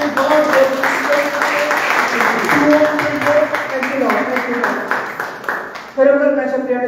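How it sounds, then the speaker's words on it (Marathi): An audience claps to thank God at a New Year church gathering, dense rhythmic clapping mixed with voices and music, loud and close throughout. "So shall we clap and thank God for this great"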